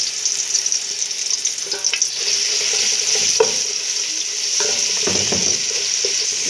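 Garlic sizzles loudly in hot ghee on the stove for a fatta dish, a continuous bright crackling hiss broken by scraping stirs, with no talk.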